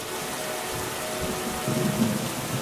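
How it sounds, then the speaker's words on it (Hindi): Heavy cartoon rain pours steadily while thunder rumbles low and swells louder toward the end, a constant close downpour with no voices. "कुछ दिनों बाद बहुत तेज बारिश होने लगी"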